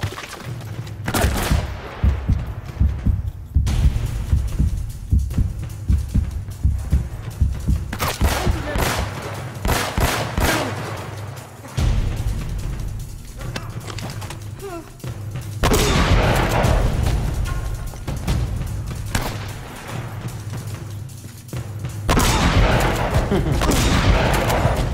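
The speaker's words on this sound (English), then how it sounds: "The shotgun is amazing, dude. Look at the range." Shotgun fire and heavy gunfight bursts in Uncharted: Drake's Fortune on PS4, loud booming volleys in clustered waves with brief lulls between them.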